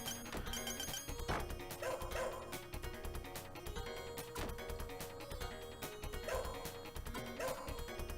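Dogs bark repeatedly in the arcade game Shadow Dancer, mixed into loud, busy game music and sound effects with hits and crashes throughout.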